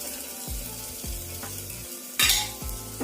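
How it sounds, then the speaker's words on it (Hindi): Carrots and beans frying in a pan while being stirred, with a steady close sizzle under repeated rhythmic scrapes of a spoon against the pan and a brief louder clatter near the end. "मैं थोड़ा सा गाजर डालूंगी जो मैंने काट के रखा हुआ था पहले से। और थोड़ी सी बीन्स की सब्जी है, गाजर डालेंगे, थोड़ा सा बीन्स डाल देंगे।"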